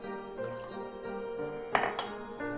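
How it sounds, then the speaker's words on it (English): Liquid pours into a pan in a short, steady stream, with a brief clink of metal near the end. "Just going to pour this into the pan"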